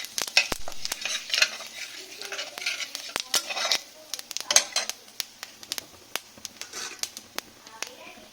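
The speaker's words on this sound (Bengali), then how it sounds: "5 ফোড়নটা একটু ভাজা হয়ে যায়।" Panch phoron spices crackle and sizzle in hot oil in a wok, with quiet sizzling broken by sharp clinks and scrapes of a spatula stirring.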